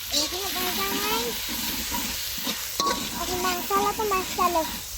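Bombay chilies sizzling and frying in tomato paste in a pan while being stirred, a steady close hiss with scraping stir sounds, with people talking over it throughout.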